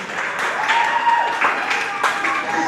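Students clap together at a grades 4–6 school awards ceremony, a steady, dense round of applause running the whole time, with a few claps standing out over the crowd.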